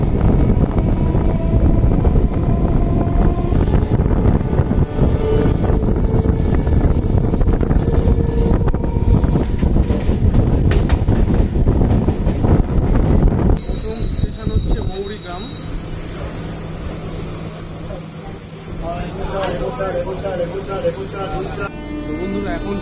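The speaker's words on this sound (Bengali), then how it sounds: "আমাদের ট্রেন ছেড়ে দিল।" A Howrah–Digha local train departs and runs, with loud, constant wheel rumble and wind buffeting heard from on board, easing into a quieter, smoother roll with a brief high tone and occasional voices.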